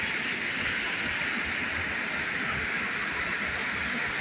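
Waterfall heard from nearby outdoors, a steady loud broadband rush of falling water with no variation and no talking.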